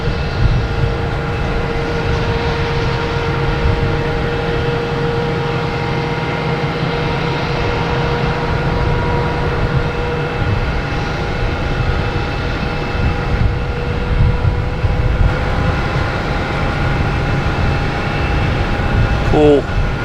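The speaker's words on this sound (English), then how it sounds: "We have the Lufthansa Star Alliance that just landed." A Lufthansa airliner in Star Alliance livery rolls along after landing at Boston Logan, a loud, steady engine drone with sustained whining tones held constant throughout, heard from nearby outdoors.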